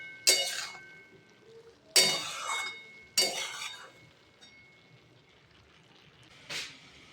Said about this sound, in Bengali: এবার আরেকবার নাড়াচাড়া করে দিয়ে একটু ঢাকা দিয়ে দেব।